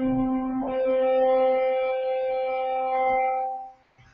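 Distorted electric guitar sustaining a bright, buzzy note that rings out loud and close for about three seconds before fading, with a short muted pick scrape near the end and no talking.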